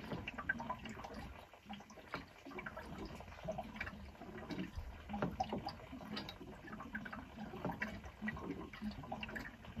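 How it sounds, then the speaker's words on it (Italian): Water draining and gurgling through the opened taps of a camper, an uneven close trickle and splash with small drips, faint and without talk. "Adesso ho aperto i rubinetti. E si sente che scarica"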